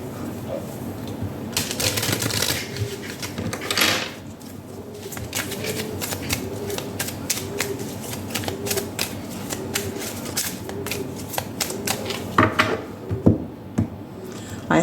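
A tarot deck is handled and shuffled, producing rapid crisp riffling card flutters and soft taps in a close quiet room, with a few louder bursts of shuffling between lighter rustles.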